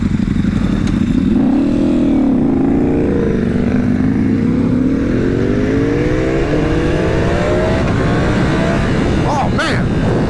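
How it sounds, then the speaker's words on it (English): A 2025 Ducati Panigale V4 sportbike accelerates hard on a first ride, its engine note climbing steadily in pitch through the revs with a loud, continuous roar and wind rush, captured close from the rider's position. "Oh man, this bike just takes off. After a certain RPM, it just goes."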